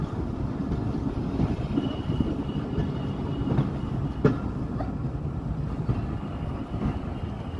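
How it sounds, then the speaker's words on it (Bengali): A mail train rolls into Bahirpur railway station in Rajbari district, a steady dense rumble of wheels and carriages with faint clacks and occasional sharp clicks, heard continuously from on board without voices. "আমাদের ট্রেন এই মুহূর্তে বহরপুর রেলওয়ে স্টেশনে প্রবেশ করতেছে।"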